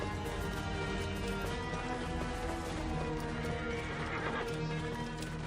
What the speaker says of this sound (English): There's a horse here at the oasis.